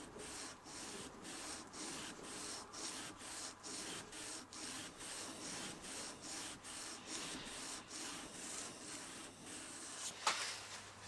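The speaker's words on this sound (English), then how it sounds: "I've worked on the knife, gone through the grits, finally stropped it" Hand sharpening a Scandi grind knife on a stone, a steady rhythmic rubbing of steel strokes back and forth, close and fairly quiet, with a brief sharper scrape near the end.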